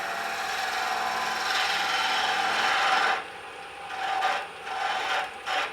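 Wood-turning tool cutting on a lathe while shaping a small birdhouse ornament, a steady rasping scrape that breaks into short bursts toward the end; close and moderately loud, no talking.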